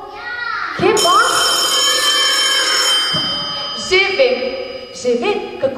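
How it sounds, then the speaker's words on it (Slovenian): A telephone rings in a children's theatre performance, a bright electronic ringing tone rising over the stage; a voice and other talk surround it, with further short ringing bursts near the end. "Zvoni telefon?"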